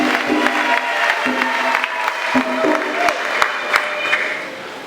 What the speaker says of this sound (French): je demande à toute la communauté d'applaudir pour le Père